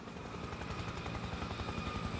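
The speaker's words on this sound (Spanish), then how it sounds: "Helicóptero, agachaos." Steady rotor throb of a helicopter passing overhead in the war shooter Spec Ops: The Line, a dense continuous thumping wash with constant loudness for a brief moment.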